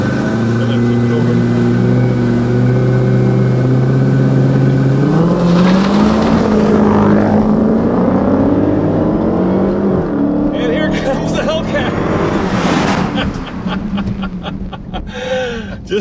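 A Dodge Hellcat and a 4WD Jeep SRT drag race, engines rising in pitch under hard acceleration with a loud revving pass, then fading as the cars pull away; people talk over the engine noise.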